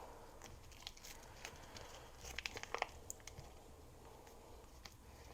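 Plastic wrap peeled off packaged raw chicken, with soft crinkling that builds into a brief burst of sharper crackles and tearing midway, close and fairly quiet.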